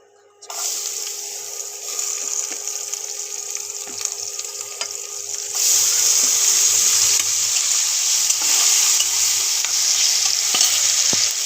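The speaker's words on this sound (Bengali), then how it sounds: "পেঁয়াজ আর টমেটোটা ভাজা হয়ে গেছে।" Chopped onion and tomato fry in a pan for a Bengali soybean dish, giving a steady, close sizzle with stirring that grows louder and denser about halfway through.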